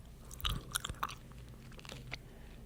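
Close, quiet chewing of a chocolate candy bar meant to crackle, with soft crunches, wet mouth clicks and a low thump early on.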